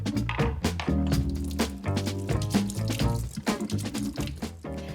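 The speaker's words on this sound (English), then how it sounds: "Now I'm just gonna wash my hands." Hands are washed under running water at a kitchen sink, with an uneven splashing and gurgling stream that rises and falls continuously, close by, with no talk.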